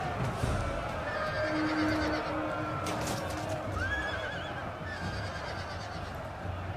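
Horses whinny and neigh amid a cavalry clash in a real-time strategy battle game, one clear shrill neigh over a background of galloping hooves and combat noise, with a commentator speaking.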